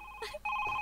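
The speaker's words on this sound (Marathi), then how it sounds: "कोणाचा फोन आहे ग?" A telephone rings indoors in a short burst of steady electronic ringing tones, with a brief pause and a faint vocal sound between rings.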